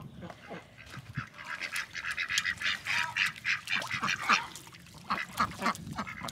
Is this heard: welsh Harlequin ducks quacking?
yes